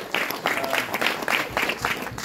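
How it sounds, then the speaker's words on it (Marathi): An audience at a religious discourse gathering breaks into applause, a dense, lively burst of many hands clapping together for a couple of seconds. "सर्वांनी टाळ्या वाजवून."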